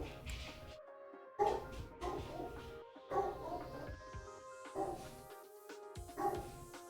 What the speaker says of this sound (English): My dog is just obscenely upset about literally nothing.